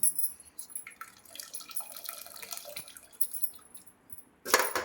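Boiled horse gram being strained, its liquid trickling and dripping in small irregular splashes, fairly quiet and close, with a louder pouring burst right at the end.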